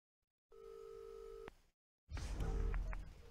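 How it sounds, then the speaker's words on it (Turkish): Phone ringing in the video game Far Cry 3, a steady electronic tone held for about a second, then a pause and a louder, noisier passage of game sound with shorter tonal beeps. "Bizim telefon yine çalıyor."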